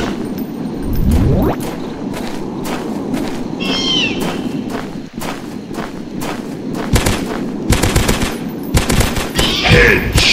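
Rapid gunfire from the game Dinosaurs Hunter, with repeated loud shots in irregular bursts over a continuous rumbling backdrop and a few higher game cries mixed in.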